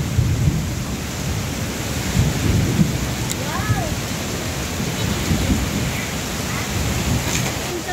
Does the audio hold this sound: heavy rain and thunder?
yes